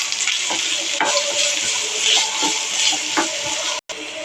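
Finely chopped onions frying in a hot pan, a close, continuous sizzle with scraping stir strokes at intervals and a brief silent gap near the end.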